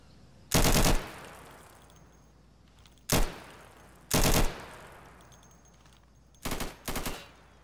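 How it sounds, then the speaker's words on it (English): Gunfire in the Garry's Mod video game: four separate loud bursts of shots, the last a quick double burst, with quiet gaps between them and no talking. "Shoot one more time."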